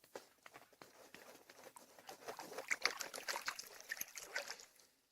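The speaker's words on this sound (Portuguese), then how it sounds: "agitar algumas vezes e a água flui" Water trickling and dribbling through a siphon hose filling a barrel, a soft, steady uneven flow with small bubbling splashes, quiet and close.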